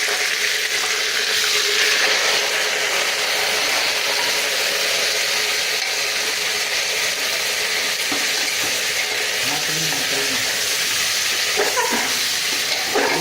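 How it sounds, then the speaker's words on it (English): Lamb pieces for lal maans dropped into a hot pan with garlic, giving a loud, steady, broadband sizzle that holds for several seconds, with faint clatters of stirring toward the end and no talk. "So now I'm going to put the lamb inside."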